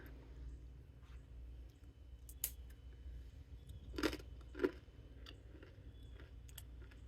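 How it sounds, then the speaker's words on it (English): Quiet, close crunching and chewing of fried cheese wontons, with a few crisp bites standing out over a low background hum. "I don't know if you can hear that crunch."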